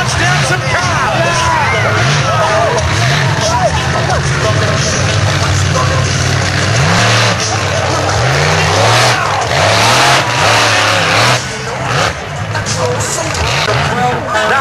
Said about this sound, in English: Monster Trucks in Australia. Here we go. You want to see him crunch down some cars?